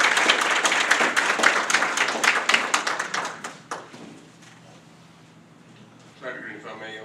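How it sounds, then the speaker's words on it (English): Audience applause at a school district board meeting, dense clapping for about four seconds that thins out and fades, followed by a quiet room with a voice starting to talk near the end. "let's give a round of applause."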